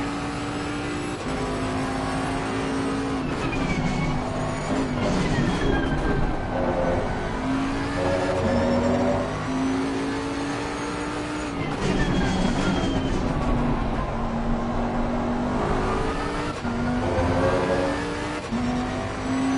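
Race car engine in Assetto Corsa Competizione at Imola, a McLaren in a championship race, droning steadily throughout with rising and falling pitch as it revs through gears, loud and close, with no talk over it.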